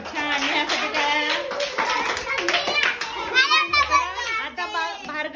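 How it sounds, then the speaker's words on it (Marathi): Children clap in a classroom physical-education game session, a short burst of scattered applause mixed with kids' excited chatter and an adult voice speaking over it. "नेहासाठी टाळ्या"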